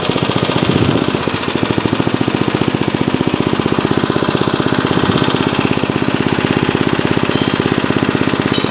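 A Honda GX120/GX160 small engine runs smoothly after a starter repair, a loud, close, even putter with a fast regular firing rhythm and no talk.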